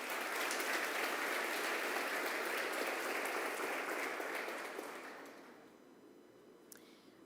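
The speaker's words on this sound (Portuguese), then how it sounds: "Pode aplaudir Jesus." A church congregation applauds with dense, sustained clapping that fills the room, then thins and fades to near quiet by the end.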